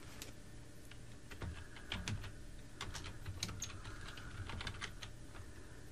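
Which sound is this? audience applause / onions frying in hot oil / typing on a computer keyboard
typing on a computer keyboard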